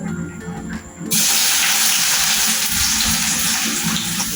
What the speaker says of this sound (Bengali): আমি এখন আস্তে করে পেঁয়াজগুলিকে ঢেলে দিব।